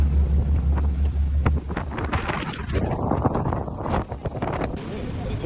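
A motor yacht cruises on open water, its engine drone and rushing water mixed with heavy gusts of wind buffeting the microphone, while people talk nearby.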